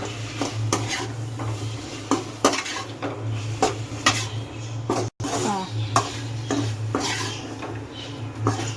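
A pan of vegetables for veg kurma, with ginger garlic paste added, is stirred steadily, a spoon repeatedly scraping and clinking against the metal under a low, constant hum of frying, with brief pauses between strokes.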